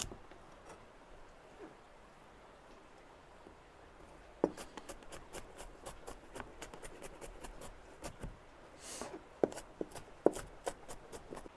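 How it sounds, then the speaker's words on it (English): A knife finely chopping shallots or onion on a board, faint at first, then a quick run of sharp, closely spaced taps and clicks from about midway on, with no voices. "Finely chop the shallots or onion."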